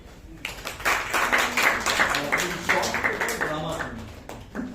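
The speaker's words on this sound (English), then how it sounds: "let's give a huge round of applause to our dramatic, expressive Jyothi" A Toastmasters club meeting audience applauds after a speaker introduction, a brisk, fairly close burst of clapping that swells quickly, holds for several seconds and then tapers off.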